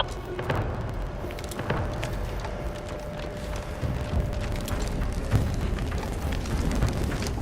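An explosion in The Outer Worlds 2 video game, a low rumbling blast and debris roll that swells and lingers as a continuous heavy drone with a few thuds over several seconds.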